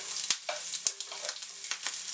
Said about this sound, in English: Once the garlic has caramelized and just beginning to turn burnt, I'm going to add some onions